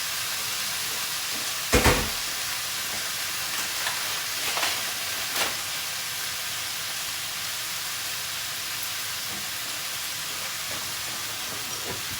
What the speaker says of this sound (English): we're going to stir fry that on the highest heat for about a minute